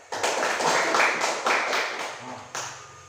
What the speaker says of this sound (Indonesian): Tepuk tangan dulu untuk kelompok 1 dan untuk semua kelompok yang ada.